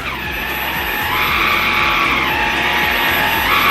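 A Swan Eureka Hyper Clean cordless vacuum cleaner runs steadily with a loud, continuous whine and airy hiss that rises slightly as it is pushed along, with no talking.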